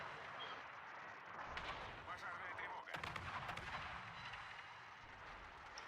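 Battleship North Carolina's secondary guns in a naval video game firing a quick series of booming shots over rumbling battle noise, with a voice talking underneath.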